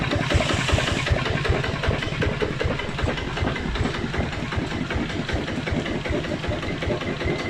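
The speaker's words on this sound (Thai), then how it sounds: "เบาเครื่องนะครับ ฟังเสียงนะครับนิ่มมากครับผม" A Macnum 155 Plus diesel engine idles smoothly and steadily close up, a rapid even chugging that continues alone throughout.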